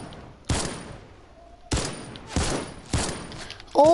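Video game gunfire resembling an AK rifle: several sharp shots at uneven intervals, some with quick follow-up bursts, loud and close with no talk over them.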